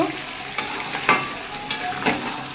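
Meat being stir-fried down (kosha) in a pan, with a steady hiss of frying broken up by several sharp bursts of sizzle as the spatula stirs it. The sizzle is close and fairly quiet, and nobody speaks.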